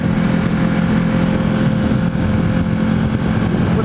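A BMW HP4 sport motorcycle being ridden on a warm night, its engine droning loud and steady throughout with a constant rushing roar and no speech.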